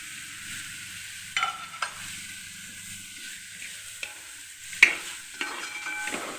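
Grated coconut tipped into a pan of frying cheera thoran, spinach leaves for the Kerala dish, then stirred with a soft steady sizzle and a few scraping clicks of the spoon against the pan, close and quiet.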